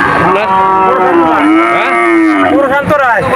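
A cow with her calf at the Mollardanga cattle market in Digholia, Khulna, moos loudly and close by in one long, drawn-out call that wavers and then breaks into shorter lowing at the end.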